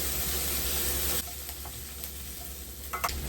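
Lasagna filling with oregano, salt and black pepper stirred in a hot pan, loud steady sizzling that suddenly drops to a softer hiss, followed by scattered scraping stirs and light clinks.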